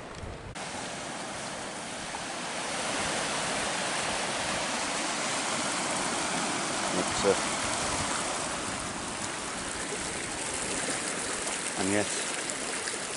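Water gushing from an outlet in a jetty and pouring into the sea at Tenby East Beach, a steady rushing roar under faint wind, with a brief word spoken near the start.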